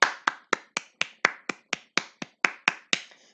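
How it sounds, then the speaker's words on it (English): Children in a second-grade English class clap in a steady rhythm, about thirteen sharp, evenly spaced claps close up, with no talking over them. "Clap for you."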